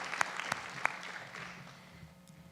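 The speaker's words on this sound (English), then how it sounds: "Let's give Anna a round of applause." People at a school board meeting clap for a music teacher, a short burst of applause with a few sharp, distinct claps up front that quickly fades into quieter scattered clapping.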